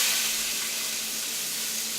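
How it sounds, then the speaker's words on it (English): Celery and peppers sizzle in a frying pan, a bright, even hiss that holds steady throughout with no voices. "Sizzle, sizzle."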